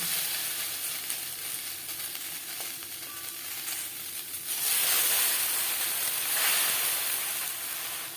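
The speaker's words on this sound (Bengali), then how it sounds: "কড়াইতে আমি ভাপিয়ে নেব এতে বাড়তে সুবিধা হবে" Chopped taro leaves steam in a wok, giving a steady broadband hiss that swells louder around the midpoint and stays strong to the end, with no talking.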